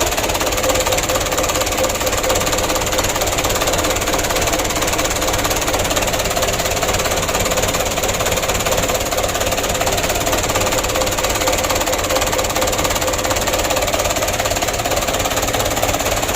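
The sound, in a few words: Mitsubishi Canter 125 PS truck diesel engine idling after start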